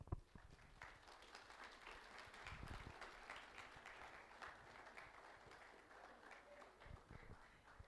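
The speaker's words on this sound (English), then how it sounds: "maybe we can give them a round of applause as they come in" A crowd applauds steadily throughout, a dense wash of clapping with a few louder bursts, some voices mixed in underneath.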